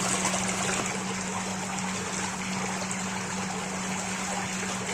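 Jacuzzi bathtub body jets running steadily, a continuous close rush of churning water with a constant low motor hum underneath, no voices.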